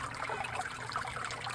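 Water pours strongly from the 4-inch outlet pipe of an aquaponics radial flow filter driven by an air lift pump, a continuous close splashing trickle and gush.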